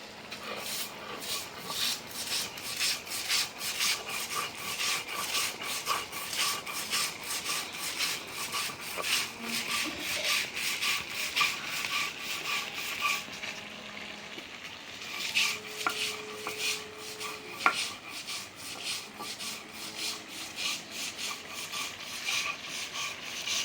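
Chanda fish being ground on a grinding stone, a steady rhythmic scraping and rubbing that continues close by for the whole stretch with no voice over it.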